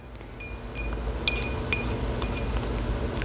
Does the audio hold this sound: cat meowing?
no